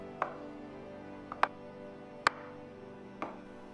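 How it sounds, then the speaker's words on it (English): A knife chops rolled cheese and carrot dumpling dough into pieces on a board, four crisp separate taps spaced about a second apart, close and clear in an otherwise quiet kitchen. "Then cut into about 1-inch pieces."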